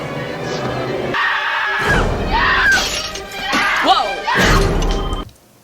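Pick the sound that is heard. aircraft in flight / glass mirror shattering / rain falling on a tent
glass mirror shattering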